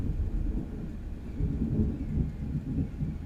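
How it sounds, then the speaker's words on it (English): Low distant thunder rumbles steadily through a storm, a continuous deep roll that swells and fades with no voices present. "There's a bit of thunder."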